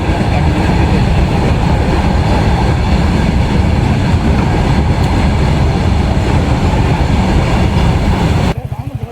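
A train rolls past a railway level crossing with a loud, steady rumble and rhythmic clickety-clack of wheels, close by and sustained before cutting off abruptly.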